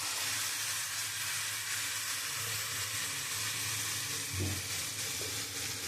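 Chicken meat sizzles and fries in a pan, cooked down for a Bengali chicken kosha, with a continuous close hiss and occasional stirring, no voices.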